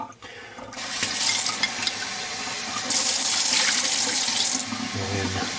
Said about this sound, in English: So I'm going to take that little strainer and rinse that out.